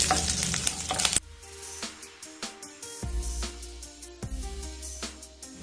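Cumin seeds, green chili and a sprig of curry leaf spit and crackle in hot oil, starting with a loud burst of sizzle that settles into steady frying with sharp pops and occasional spoon clicks against the pan.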